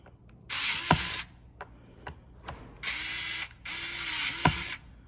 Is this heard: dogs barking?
no